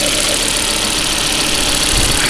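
A Volvo S60 engine idles after an alternator repair, giving a steady, loud, low rumble with a constant mechanical hum and no change in pace.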